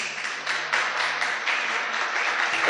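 A congregation claps steadily during a church service, a dense, even wash of applause at moderate distance that holds for a few seconds without pause.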